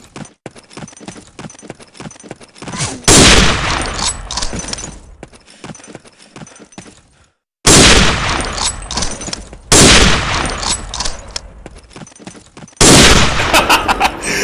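Gunfire in the video game Day of Defeat: bursts of loud, sharp shots in several clusters separated by quieter gaps and a brief silence, with no talk over them.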